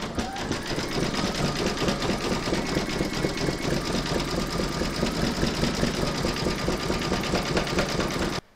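A sewing machine zigzag stitching around the edge of an appliqué piece. It runs as a steady, fast mechanical whir and chatter for about eight seconds, then stops abruptly.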